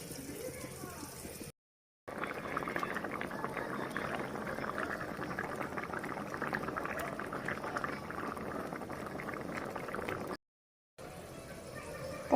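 Water heating in a pot on a home stove before eggs go in, a continuous bubbling, hissing rumble close by, cut off briefly twice, with no talking over it.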